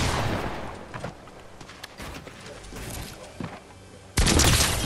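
Shotgun blasts in a video game, a few heavy booming shots scattered across a noisy match, with a loud burst near the end.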